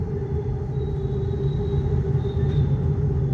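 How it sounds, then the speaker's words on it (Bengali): A metro train running on the elevated line overhead gives a steady low rumble with a faint whine, continuous and fairly loud, with no one speaking. "মেট্রোর আওয়াজ মেট্রো গেছে উপরে দিয়ে"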